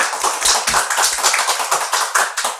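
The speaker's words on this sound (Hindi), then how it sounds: "तालियां हो जाए जरा, बच्चों की हौसला अफजाई कीजिए" Applause for children on a quiz show, a small group clapping in uneven, fairly close bursts.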